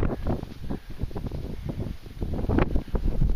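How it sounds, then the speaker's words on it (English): Steady wind buffets the microphone in low, rumbling gusts on an open overlook near Moab, with a stronger gust swelling toward the end; no one speaks. "it's windy and that's a straight shot down there"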